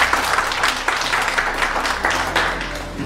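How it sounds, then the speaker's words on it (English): Enthusiastic applause from an audience at a Dynapharm business event, a loud close burst of many hands clapping for the whole stretch, with no voices over it. "A big round of applause to them."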